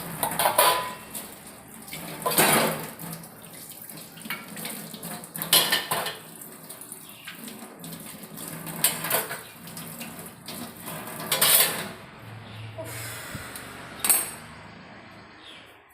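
Dishes being scrubbed and rinsed at a kitchen sink, with repeated clinks of pots, plates and cutlery under running tap water, close and fairly loud, with no talking.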